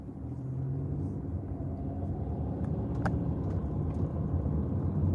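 Steady low engine drone and road rumble from a car with a 3-cylinder engine as it accelerates, heard from inside the cabin, continuous and fairly loud with no talking.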